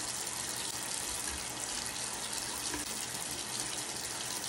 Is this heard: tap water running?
yes